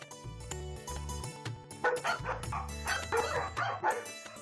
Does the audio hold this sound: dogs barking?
yes